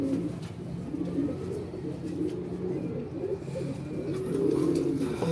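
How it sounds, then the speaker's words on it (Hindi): Sialkoti pigeons coo in low, soft, rolling murmurs, several birds overlapping close by at a steady moderate level, with faint background noise and no talk. "सियालकोटी कबूतर का भी शौक कर लें ज़रा।"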